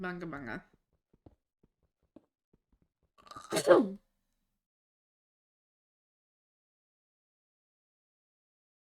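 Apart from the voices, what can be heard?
sneeze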